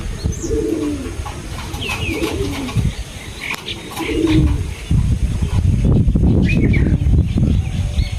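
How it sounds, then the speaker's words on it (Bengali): Pigeons coo repeatedly at close range, soft throaty calls over rustling and shuffling, with a few faint chirps. "তো 6টা কবুতর উঠতেছে, এই 2টা উঠতেছে না।"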